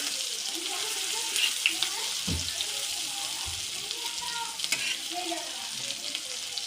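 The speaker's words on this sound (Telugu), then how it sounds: "ఈ ఆనియన్స్ని పచ్చిమిర్చిని కూడా వేగనివ్వాలి" Onions and green chillies fry in a pan for a chicken fry, a close, bright sizzle with occasional stirring scrapes and a few soft knocks partway through.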